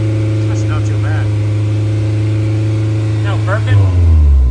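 A Honda S2000 exhaust holds a steady, loud drone at 3,000 RPM, with a low hum and faint voices in the background, and the pitch drops as the revs fall near the end.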